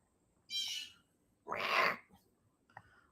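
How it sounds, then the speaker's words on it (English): A crow caws twice, two separate harsh calls about a second apart, fairly quiet and alone against a faint background, followed by a small click. "Listen, Crow."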